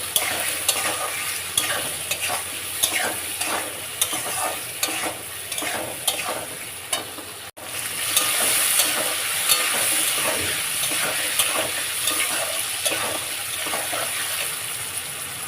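Green banana pieces fry in hot oil with salt and turmeric, sizzling steadily as a spatula scrapes and stirs them in a repeated rhythm, close and fairly loud, with no talking.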